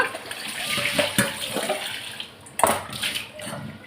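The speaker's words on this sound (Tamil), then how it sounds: "இதை நான் வாஷ் பண்ணிக்கிறேன், நல்லா கழுவி" Indian gooseberries (amla) being washed by hand in water, with soft splashing and sloshing, a couple of sharper splashes and clinks near the middle and two-thirds through, close and fairly quiet.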